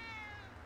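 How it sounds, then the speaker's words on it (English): A cat meows once in Grand Theft Auto 5, a short, drawn-out, high mew that sounds close and fairly clear over a low game background. "It's a little kitty. A kitty."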